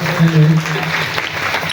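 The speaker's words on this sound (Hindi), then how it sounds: "ताली बजाकर आपका बहुत बहुत स्वागत" An audience claps at a Kartik katha gathering in the Shri Geeta Bhawan temple, with steady moderate applause under someone speaking.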